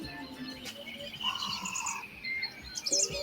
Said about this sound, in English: We got to hear the sounds of the birds